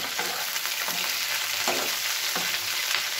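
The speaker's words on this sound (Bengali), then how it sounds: "দিয়ে এবার এটাকে আমি ভালো করে নাড়াবো।" Tomato and vegetables fry in a pan with a constant sizzle, while a spoon stirs them in several loud, rhythmic scraping strokes.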